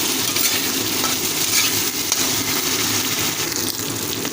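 Pointed gourds fry with spices in a pan, giving a continuous close, loud sizzle with occasional stirring scrapes and crackles throughout.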